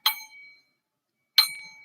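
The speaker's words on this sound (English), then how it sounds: "I have my little sound device. I have my chimes." Two bright metallic chime strikes about a second and a half apart, each ringing out with a shimmering decay into silence, used for cleansing and clearing.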